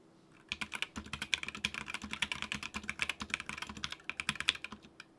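Rapid, steady typing on a gasket-mounted Board Source Mark 65 mechanical keyboard, close and clear, with soft, muted keystrokes clattering continuously for several seconds.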